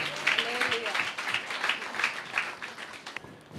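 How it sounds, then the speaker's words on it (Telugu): Church congregation applause during a Christian sermon, a dense steady patter of many hands clapping together for a few seconds, fairly close, with a voice faintly present underneath. "చప్పట్లు కొట్టి ప్రభు నామాన్ని మహిమపరుస్తాం"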